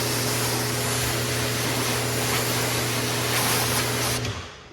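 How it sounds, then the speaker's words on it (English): A pressure washer's rinse nozzle sprays a BMW M4 fitted with a carbon fiber kit, producing a loud, continuous hissing spray over a steady pump hum that cuts off near the end. "So now we'll throw our rinse nozzle or pressure nozzle right back on."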